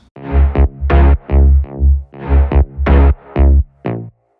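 A deep layered synth bass, three parts over a sine-wave sub-bass, plays a rhythmic pattern of sustained, buzzy notes, loud and alone, with short gaps between phrases.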